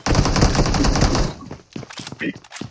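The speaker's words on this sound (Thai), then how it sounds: "โอ้มันยิงกันนี่หว่าคนละที่" Rapid bursts of automatic gunfire in the mobile battle-royale game PUBG Mobile, loud and dense for about a second, then breaking into scattered sharper single shots with quieter gaps.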